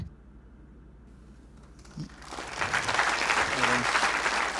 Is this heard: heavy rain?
no